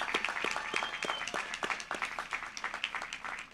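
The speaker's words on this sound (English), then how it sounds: "one final round of applause to the class of 2022" Crowd applause at a 2022 college commencement ceremony for a STEM graduating class, a continuous patter of many hands clapping, fairly loud at first and tapering slightly toward the end, in a large hall.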